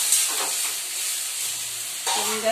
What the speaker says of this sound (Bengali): খুব ভালো করে ভাজা করে নেব